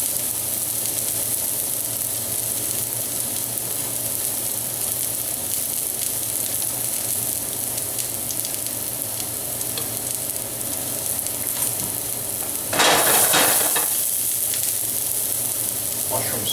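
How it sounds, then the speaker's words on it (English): Garlic sautéing in extra virgin olive oil in a hot sauté pan, a dense, loud, continuous sizzle, close up, with a brief surge of hissing near the end. "hot saute pan, a little bit of extra virgin olive oil there. Garlic goes in."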